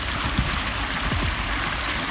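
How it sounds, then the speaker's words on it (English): A backyard garden waterfall water feature runs with a steady, rushing splash of falling water and faint gurgles, close and continuous with no talk. "with the waterfall and got all the aspects of the water features working"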